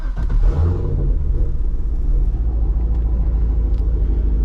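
Warm Chevrolet Corvette C6 Grand Sport idling, a steady low, rumbling engine drone that stays even and moderately loud throughout with no talk.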